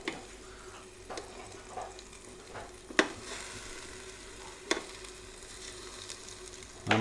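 Pork steaks sizzle steadily in a hot air fryer while being flipped over, with a low constant hiss broken by a few sharp clicks and clatters near 3 and 4.7 seconds; no one speaks.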